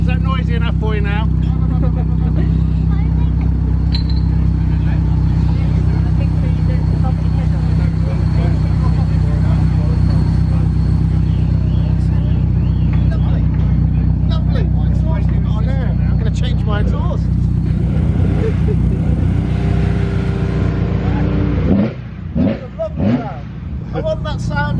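Race cars at Brands Hatch circuit roar past in a loud, sustained engine drone with rising and falling pitches, a heavy mechanical rumble dominating, easing near the end with voices talking nearby.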